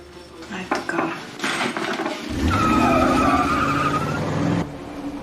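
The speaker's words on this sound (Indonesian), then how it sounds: "Joanna pergi dengan mobil biru muda, mobil yang sebenarnya juga dibeli oleh Clint" A light blue car pulls away with a loud surging engine and tire noise that swells, holds for a couple of seconds, then drops off, preceded by clattering and rustling.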